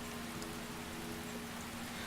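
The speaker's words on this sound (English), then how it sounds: "Rain began to fall and patter against the stone and grass as the haunting bell began to chime." Steady rain falls and patters on stone and grass in an otome video game scene, a continuous soft hiss with a faint low tone underneath and no speech.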